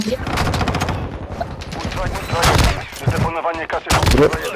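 Loud bursts of automatic gunfire in a Call of Duty DMZ match, with repeated sharp volleys close by and a voice talking briefly between them.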